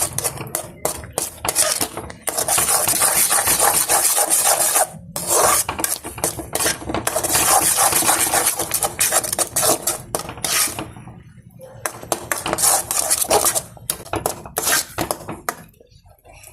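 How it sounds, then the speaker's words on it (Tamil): Sugar stirred into sugarcane halwa in a pan, a steady, loud scraping and rasping of a spoon against the metal, in repeated strokes with brief pauses throughout. "சர்க்கரை சேர்த்து நல்லா மிக்ஸ் பண்ணி வச்சுக்கலாம்"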